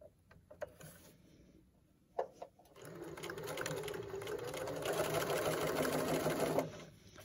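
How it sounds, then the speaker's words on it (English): A sewing machine stitches across a pajama pants seam with a back stitch through a tag: a few light taps, then a steady, close mechanical run of stitching that stops abruptly. "we're going to sew starting on our previous stitches, back stitch, and sew all the way across to our previous stitches"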